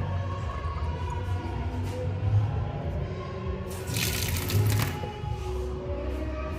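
Water runs from a kitchen sink tap in a modern apartment, a steady low rushing stream with a brief brighter, louder splash midway, fairly close and heard alone.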